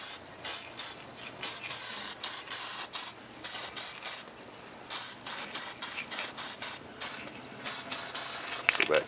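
Aerosol paint sprays onto a model 70mm EDF jet in short, repeated hissing bursts of varying length, close and steady with brief pauses between passes.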